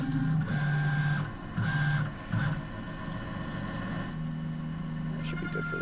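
Metal being cut on an 8L lathe gives a steady mechanical whine with shifting tonal bands, louder in short stretches early on, then settling into an even hum.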